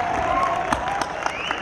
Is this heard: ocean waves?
no